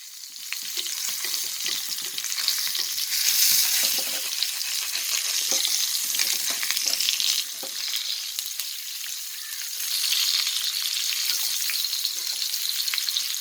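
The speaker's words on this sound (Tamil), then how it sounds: "மீன் ரோஸ்ட் ஆகிட்டு திருப்பி போட்டுடலாம்." Chala sardines fry in a pan of oil, giving a steady, close, continuous sizzle and crackle with occasional pops and light stirring, with no voices.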